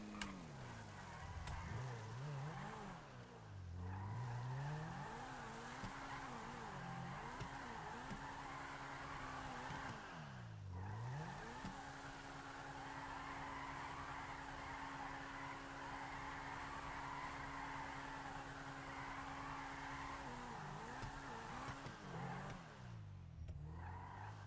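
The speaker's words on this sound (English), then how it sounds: "This is like real life race car right here." A street-legal race car in a GTA video game drives continuously, its engine note rising and falling through repeated revving sweeps with tire noise, moderately loud and steady for the whole stretch with no talk.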